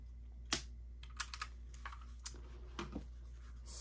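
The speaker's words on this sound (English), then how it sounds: "I will need my calculator for this one." Fingers tap out numbers on a calculator, with soft, quick plastic key clicks spaced irregularly over a constant low hum, faint and close.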